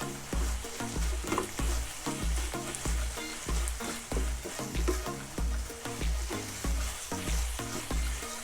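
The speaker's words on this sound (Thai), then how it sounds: "ได้ที่แล้วเราก็ใส่พริก ลงไปนะคะใบมะกรูดด้วย ผัดอีกสักนิดนึงเนาะ" Beef sirloin stir-fried with chili and kaffir lime leaves in a hot pan, steady sizzling with rhythmic scraping stir strokes about every half second, close and moderately quiet, no speech.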